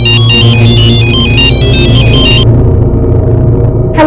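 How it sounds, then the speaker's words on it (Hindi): A phone ringtone plays loudly, a repeating electronic melody that cuts off partway through, leaving a quieter tonal tail. "फोन बज रहा है"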